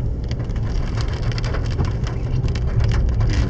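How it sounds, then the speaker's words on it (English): Steady rain falls through thick, warm Daintree rainforest along a forest road, a dense, constant patter of drops hitting leaves and surfaces close by, with no voices. "it's raining in the rainforest"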